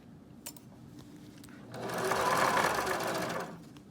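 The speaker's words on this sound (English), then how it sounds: "We're just going to stitch right on top of that, and that will ensure that we've got a nice close seam to the cording or the piping." A sewing machine stitches a seam along the cording or piping of a bolster pillow cover, a loud steady whirring run of about two seconds after quieter handling sounds.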